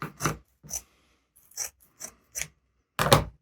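Scissors snip through pan scourer material in six separate crisp cuts spaced out with silent gaps, close and clear with no talking.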